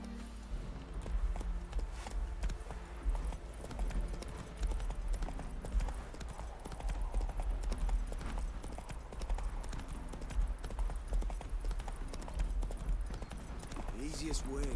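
In the Witcher 3 video game, a horse gallops with steady rapid hoofbeats that continue throughout at moderate level, with a voice talking over them.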